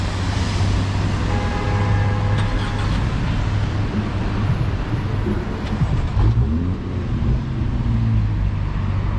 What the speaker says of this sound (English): Oh my god, look at that traffic.